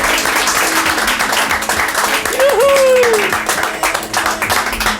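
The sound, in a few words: audience applause on a TV show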